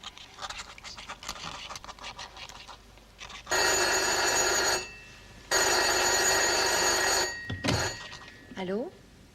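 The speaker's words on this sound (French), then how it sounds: "Et pour la vraisemblance, je laissais un peu sonner le téléphone." A telephone bell rings on stage in a 1987 Sacha Guitry tribute play, two long loud rings separated by a pause, with scattered talk and stage sounds before and a receiver pickup after.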